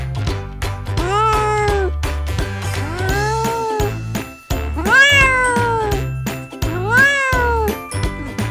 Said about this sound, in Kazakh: Мысық мяу. Мяу дейді.